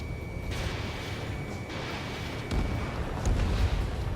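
Rumbling explosions as anti-air gun emplacements are destroyed during a rescue mission in the Ace Combat 7 flight combat game, a continuous low roar with heavier booms swelling in the second half.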